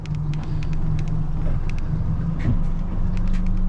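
Twin Yamaha F150 outboard engines on a 2021 Defiance 250 Admiral EX boat rev up in gear, a steady loud drone with a low hum that holds constant and rises slightly toward the end.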